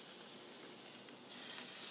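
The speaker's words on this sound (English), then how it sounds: "You can hear that sizzling." Smoking-hot oil poured over a steamed whole fish in a wok, giving a steady close crackling sizzle that swells slightly toward the end, with no talking.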